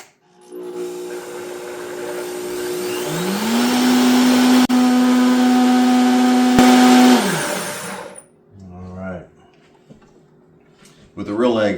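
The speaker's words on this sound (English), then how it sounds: "we are on the mixer. We're going to start this off at a slow speed and we're going to immediately crank it up to 10" An electric stand mixer beats cookie dough for Mexican hot chocolate cookies, spinning up from low and quickly rising to a loud, high-pitched whine that holds steady for several seconds before cutting off, followed by brief clatter and light handling sounds.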